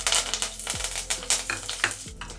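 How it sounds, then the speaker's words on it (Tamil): Mustard seeds, urad dal and curry leaves fry in hot oil for beetroot poriyal, giving a close, steady crackling sizzle with sharp pops and a few stirring scrapes. "இப்போ கருவேப்பிலை சேர்த்துக்கலாம்"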